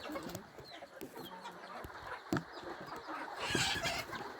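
Chickens cluck quietly in scattered bursts, mixed with rustling and a few sharp knocks in a rather noisy outdoor setting.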